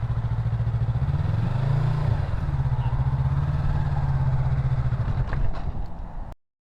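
Yamaha MT03 motorcycle engine running loud and steady near the rider, a low throbbing drone that swells slightly as it pulls away from a stop sign, then cuts off abruptly.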